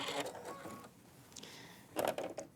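A sewing machine stitches quilt binding in short bursts, a quiet mechanical whirr that starts and stops, the seam sewn off at an angle at a mitered corner.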